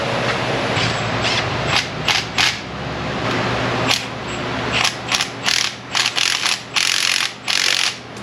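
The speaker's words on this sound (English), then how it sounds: "I want to torque the turbo to the manifold first before I tighten any of the lines up." Ratchet torque wrench clicking in bursts while tightening a turbo onto an exhaust manifold in an auto repair shop, the close, loud rapid ratcheting heard alone over a steady shop hum.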